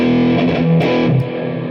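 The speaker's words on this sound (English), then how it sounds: "This Sans amp is actually my heavy distortion." Electric guitar played through a SansAmp heavy distortion pedal, a loud, thick distorted chord ringing and shifting for under two seconds before easing down.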